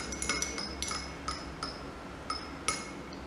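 A spoon stirs orange juice mixed with water in a glass, giving a quick run of bright clinks, about a dozen taps at an uneven rhythm, close and clear over a quiet room.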